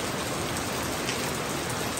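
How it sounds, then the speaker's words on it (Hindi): Heavy rain pours down steadily and loudly, a dense unbroken hiss with no gaps and no voices. "इतनी भयंकर बारिश हो रही है"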